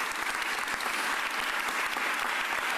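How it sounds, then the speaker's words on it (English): Audience applause at a mayoral press conference, a steady dense wash of many hands clapping at close-to-moderate distance throughout, with no voices over it. "Give her a round of applause."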